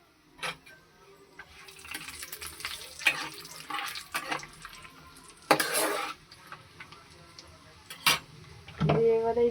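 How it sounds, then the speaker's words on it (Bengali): Cashews and raisins dropped into hot oil in a frying pan for pulao, with sharp clinks of a utensil on the pan, scattered clatters and a brief sizzle, no talking. "কাজু কিশমিশটাও দিয়ে দেবো।"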